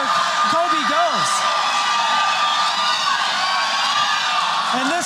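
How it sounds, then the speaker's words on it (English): Crowd at a PFC combat sports fight yelling and cheering loudly and steadily, with rising whoops throughout, under a commentator's fast talk. "this crowd is going absolutely crazy with under 1 minute to go"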